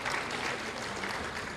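A seated audience at an open Muhammadiyah panel dialogue applauds in a steady, dense wash of clapping that lasts throughout.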